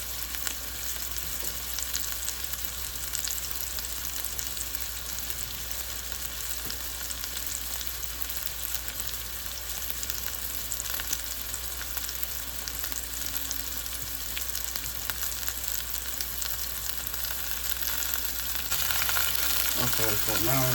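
A cheese-and-shrimp-stuffed chicken breast fries in a pan on the stove, giving a steady, dense sizzle and crackle that runs throughout, growing louder near the end as the meat is disturbed.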